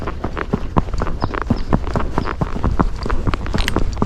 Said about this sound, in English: Hey, there's ponies coming up.